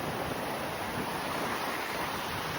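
Saya Creek flowing in Glacier National Park, a steady, close broadband rush of water that fills the whole clip without pause or voices.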